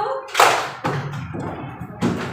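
A single clap of a group of pupils in a classroom clap game, a sharp broadband burst, followed by further thuds and claps spaced about a second apart, with voices faint underneath.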